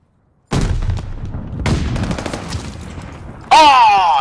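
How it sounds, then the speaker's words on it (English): Loud bursts of gunfire from Call of Duty: Vanguard, two rapid strings of shots separated by a brief gap, then a sharper burst with a whining ricochet-like tone, heard alone without talk. "Oh, they sniped me."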